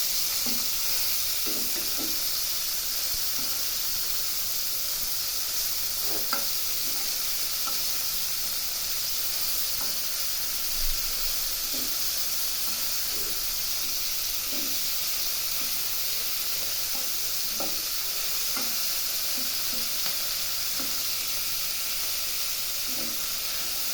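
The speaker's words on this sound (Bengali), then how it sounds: "তো চিংড়ি মাছগুলোকে এপিট ওপিট করে ভালো করে ভেজে নিতে হবে।" Large golda prawns fry in hot oil with a steady, quiet hiss that runs unbroken, dotted with occasional soft pops and light taps as they are turned.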